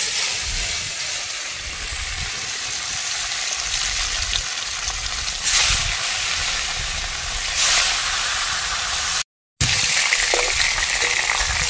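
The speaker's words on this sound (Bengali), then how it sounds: "আমি এবার ভাজতে দিয়ে দিচ্ছি কড়াইয়ে।" Pieces of rohu fish fry in a wok, a loud continuous sizzle and hiss of hot oil up close, steady throughout with only a brief cut, no talking.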